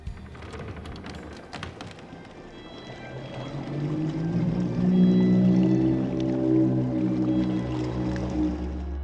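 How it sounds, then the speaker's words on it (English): Slow, drawn-out creaking and low groaning tones swell and hold, like an old wooden boat straining, over a deep rumbling wash of water, from a Bendy and the Ink Machine game trailer. "In the trailer we also hear moaning and what sounds like the creaking of a boat."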